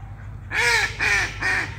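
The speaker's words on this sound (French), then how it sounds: "Ah, bonjour les petits canards. Petit passage de canard comme ça" Three loud duck quacks in quick succession as ducks pass by on a stream behind an apiary, close by, over a low background rumble.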